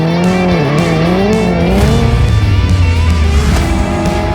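A Hyundai N performance car drifts with a loud, continuous engine roar and sustained tire squeal, the pitch rising and falling as the car slides, close and steady throughout with no talk.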